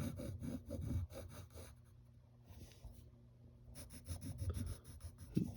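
A pencil scratches lines onto paper in close, quiet strokes. Rhythmic scribbling at the start and end frames a softer pause in the middle.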